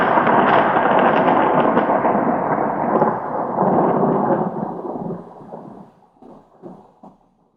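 A long rolling boom of thunder, loud and sustained with a deep rumble that fades into scattered crackles toward the end; no voices.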